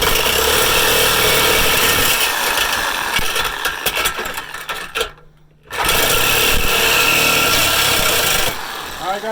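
A power saw blade grinds loudly through a rusted car exhaust, a harsh continuous cutting roar that stops briefly midway and then resumes at full strength, close up.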